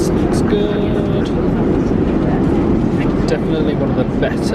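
A loud, steady, broadband drone of an airliner cabin in flight fills the whole stretch without a break, with voices murmuring over it.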